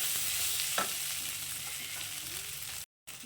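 Okra frying with salt in a pan, stirred with a spatula: a steady, close sizzling hiss with one brief scrape near the start and a short break near the end.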